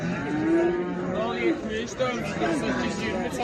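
Calves moo repeatedly at a busy cattle, sheep and goat market in Maştağa, Azerbaijan, loud drawn-out calls rising over people talking nearby.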